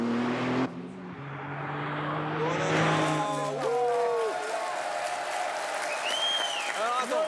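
A Porsche 911 Turbo S on a race circuit, its engine note sweeping up under acceleration with rising and falling harmonic tones, loud and close, with light tyre noise and crowd-like wash behind.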